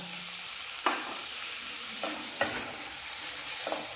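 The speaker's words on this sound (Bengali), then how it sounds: "এখন মশলার সঙ্গে আমি মটরশুঁটিগুলো ভালো করে মিশিয়ে নেব।" Peas are stirred into fried spices in a pan with a steady sizzle underneath and a few sharp scrapes of the spoon spaced across the stretch, nobody talking.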